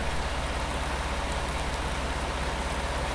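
Rain falls in a Farming Simulator 19 game, a dense, even hiss of drops on surfaces that stays steady and soft throughout, with no voices.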